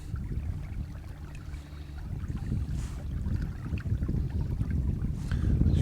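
A boat cruises along a narrow river cut on the Norfolk Broads on a dull, mildly windy day, its low engine rumble steady and close with wind and water noise rising slightly toward the end.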